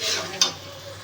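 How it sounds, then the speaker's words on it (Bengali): Mutton curry frying with cumin and coriander powder sizzles steadily in a pan, and one short, sharp scrape of a spatula sounds close by. "এবার ভালো করে মিশিয়ে ঢেকে ঢেকে কষাবো।"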